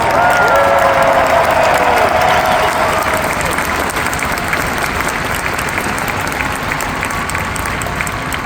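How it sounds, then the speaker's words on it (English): Commencement crowd at the University of Maryland applauding graduates in caps and gowns, a loud dense roar of clapping with cheers and whoops early on, sustained and slowly easing over several seconds. "And I think that deserves another round of applause!"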